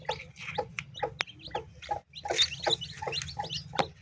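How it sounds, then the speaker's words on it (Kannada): A brooding hen with her newly hatched chicks makes soft, close clucks, mixed with high chick peeps in an irregular, overlapping patter over a low background rumble. "ಓ ನಾಲ್ಕು ಮರಿ ಐದು ಮರಿ ಬಂದಿದೆ ನೋಡಿ"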